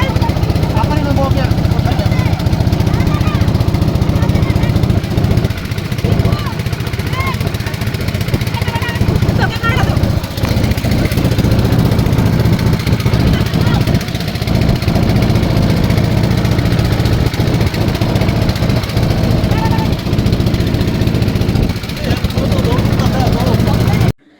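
A steady, loud motorboat engine drone runs throughout, with faint voices now and then underneath it.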